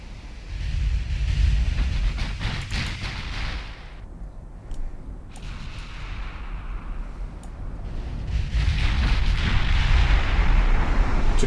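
Warship guns fire at a battle cruiser in Ultimate Admiral Dreadnoughts, heavy rumbling salvos with sharp cracks early on, a brief lull, then a sustained loud booming roar building toward the end, with no speech.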